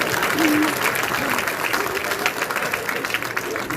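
Applause from a stand-up comedy audience in the UK, dense clapping and crowd noise filling the room, with a voice speaking over it near the start.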